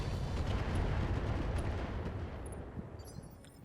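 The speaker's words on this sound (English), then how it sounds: "set off the missiles first" Missiles fired from a mech in the video game RogueTech: a heavy rumbling barrage of launches and blasts, loud and sustained before fading out.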